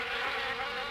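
Steady, loud insect buzzing from wasps nesting in an old car in the video game Harvester, with no other sound over it.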